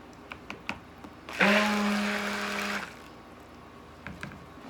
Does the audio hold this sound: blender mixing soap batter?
yes